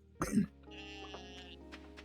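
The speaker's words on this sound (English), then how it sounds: "I apologise for the coughing." A single sharp, harsh cough bursts out near the start, followed by quiet background sound with faint tones from a farming game playing underneath.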